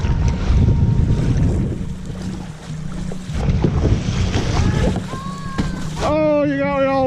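Kayak paddling around an exposed corner off Santa Cruz Island, with steady rushing wind and choppy waves washing and splashing close by throughout; a voice briefly cuts in near the end.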